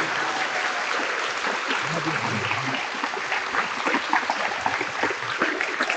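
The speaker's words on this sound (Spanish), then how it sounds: "con un fuerte, pero fuerte aplauso." A church congregation applauds steadily and loudly for several seconds, dense continuous clapping filling the room.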